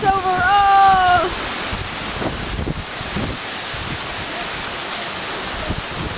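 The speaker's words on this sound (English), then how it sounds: "Here comes the big gust." A big gust of hurricane wind with surf pounds the shore in Bermuda, a steady broad roar buffeting the microphone. A voice calls out briefly at the start.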